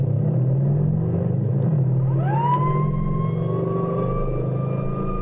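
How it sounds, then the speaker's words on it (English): A car roars past as a sound effect in an old-time police radio drama: a steady low engine rumble with a rising, sustained whine that holds to the end, with no voices. "a car roars past them"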